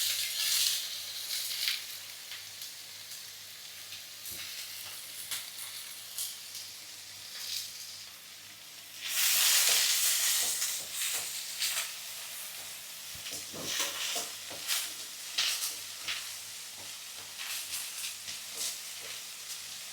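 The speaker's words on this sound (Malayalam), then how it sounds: "ഇനി അതിനകത്തേക്ക് ഉള്ളിയും ചേർക്കാവേ." Onions going into hot oil for a tamarind-free fish curry hiss and sizzle steadily, with a louder burst of frying partway through, then settling back to a continuous crackling sizzle with scattered pops, close and alone.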